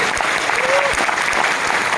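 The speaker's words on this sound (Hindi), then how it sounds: "ताली मारिए उनके लिए, चुप मत बैठिए।" Audience applause at an IMC Business gathering, a brief burst of dense, steady clapping from a large crowd filling the whole moment at fairly loud level.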